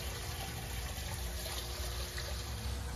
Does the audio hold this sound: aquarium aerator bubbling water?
yes